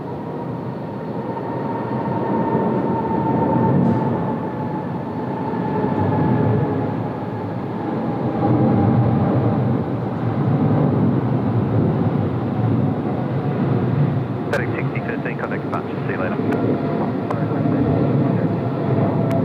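A FedEx Boeing 777 with GE90 engines rolling for takeoff at Sydney Airport on a windy night, a broad distant jet roar that swells and holds, with a voice talking over it.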